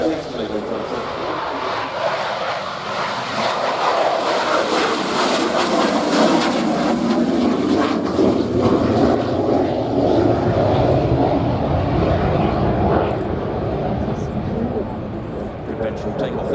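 A Harrier jet makes a conventional takeoff at the RIAT 2024 airshow. Its engine gives a loud, broad, sustained roar that swells and holds while a commentator talks over it.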